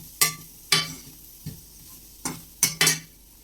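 A spoon scrapes and knocks against a pan while spices are stirred and sautéed, giving six sharp clinks at irregular intervals over a faint background with no talking.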